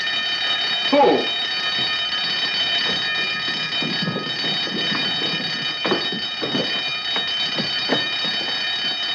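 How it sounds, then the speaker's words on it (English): An alarm rings with a steady, shrill electronic tone that runs unbroken from start to finish, over a busy, murmuring background and a brief spoken word. "Turn off the alarm."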